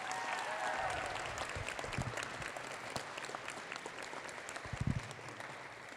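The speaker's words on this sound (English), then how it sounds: "So give them a round of applause, please." An audience at a Nutcracker dance performance claps steadily, a warm wash of applause from a crowd that holds for several seconds.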